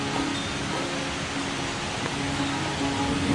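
Steady rushing water fills the scene, a continuous broad wash from the nearby Kuang Si waterfall near Luang Prabang, Laos, with no voices.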